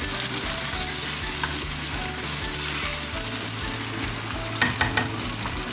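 Chicken karahi with tomatoes, dhaba style, is stirred in a pan, a loud, steady frying sizzle under rhythmic scraping strokes of the spoon that grow clattery near the end, without speech.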